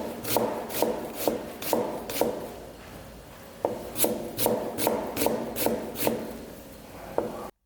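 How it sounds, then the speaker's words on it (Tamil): A knife cuts through an onion on a board in a rhythmic series of crisp chops and slices, close up, with a brief pause midway. "ஆனியனை இந்த பொசிஷனில் வச்சுட்டு லைட்டாக நைஃபை கொஞ்சம் கிராஸாக வச்சு கட் பண்ண ஸ்டார்ட்"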